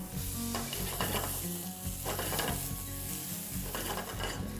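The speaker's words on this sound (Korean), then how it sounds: "그때 샬롯도 같이 익혀주겠습니다." Shallots, seasoned with salt and pepper, sizzle steadily and loudly in a pan alongside a searing beef tenderloin steak. A continuous close crackle with a few scraping stirs and no talk.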